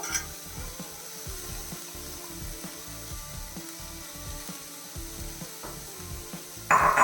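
Spinach (cheera) for thoran sizzles in a pan, crackling steadily with irregular clicks and scraping stirs throughout, close and moderately loud, with a sharper burst at the very end.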